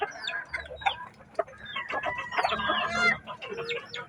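A flock of Filipino gamefowl and native chickens on a rural farm, clucking busily and close by with overlapping calls, while roosters crow at intervals through the racket.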